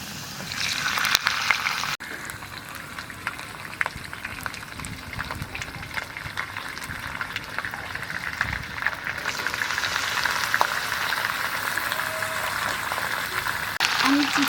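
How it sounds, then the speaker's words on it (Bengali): Chicken pieces sizzling in a pan for masala chicken, a continuous crackling fry with scattered pops and clicks, steady throughout, while someone talks over it. "এবার আমি চিকেনগুলোকে দিয়ে দেবো।"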